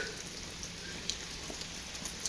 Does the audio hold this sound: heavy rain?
yes